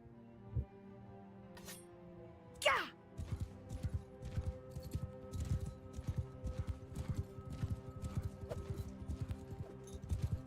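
Horse hooves clip-clop steadily during riding in the video game Bannerlord, a rhythmic clatter of footfalls growing denser after a brief whoosh, with no talking over it.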